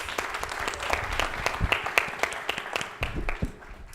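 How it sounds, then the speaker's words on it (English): An audience claps in a round of applause for a dean and students at a panel event on art for social change, scattered distinct hand claps, moderately faint, thinning out toward the end. "Let's give Dean Elwood and the students another round of applause."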